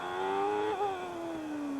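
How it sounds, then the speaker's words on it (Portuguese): A high, steady Benetton Formula One engine whine at the 1994 British Grand Prix holds a sustained note, dipping briefly and then drifting slowly lower as the car passes. "Vai curtindo o som do motor da Benetton."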